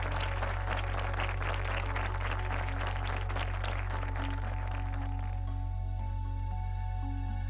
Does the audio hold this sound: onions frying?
no